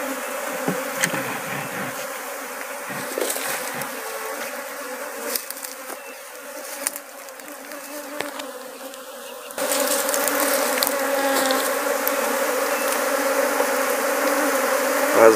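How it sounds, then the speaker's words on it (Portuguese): A swarm of Apis honey bees being captured from a small branch makes a dense, continuous buzzing hum close by, which grows noticeably louder and fuller about two-thirds of the way through. "aí nós vamos botar as abelhas pra dentro agora."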